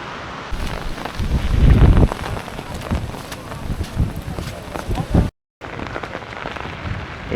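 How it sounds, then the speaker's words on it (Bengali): Heavy storm rain pours with strong wind gusting and buffeting the microphone in the hills of Nilgiri, Bandarban, loud and continuous with a brief dropout near the end. "এ পাশ থেকে ঝড়ো বৃষ্টি আর প্রচণ্ড রকম বাতাস বৃষ্টির সাথে।"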